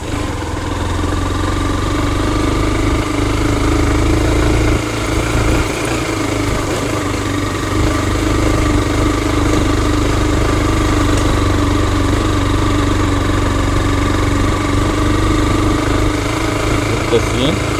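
A motorcycle engine drones loud and close without letup, a low, labored hum sustained as it climbs uphill on the hill road to Boga Lake, Bangladesh, while someone talks over it.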